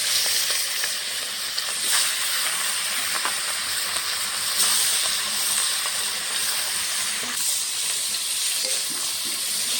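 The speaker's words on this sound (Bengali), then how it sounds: "মাথাটা লাল লাল করে ভালো করে ভেজে নেব।" Fish heads sizzle in hot mustard oil in a kadai, a steady loud hiss and crackle of frying that runs without pause, with a few faint clinks underneath.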